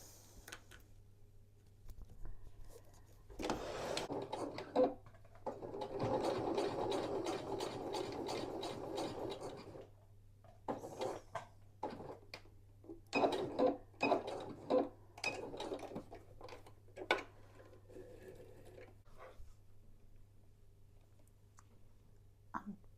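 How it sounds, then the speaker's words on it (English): A sewing machine stitches through layered fabric scraps and bag strap for a key fob, running in close bursts of rapid mechanical whirring and clicking separated by pauses, with a low steady hum beneath. "Now go and sew along that line there."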